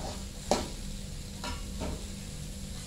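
Long beans being stir-fried in a pan, a steady close sizzle running throughout with a sharp scrape of the spatula near the start and softer stirring strokes later, no talk.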